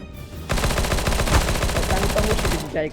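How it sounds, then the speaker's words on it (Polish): Rapid sustained automatic gunfire from a P90 submachine gun in Counter-Strike: Global Offensive, a dense stream of shots lasting over two seconds before stopping abruptly. "Dlaczego to P90 z tego się strzela i to nawet jeden HP nie zadaje?"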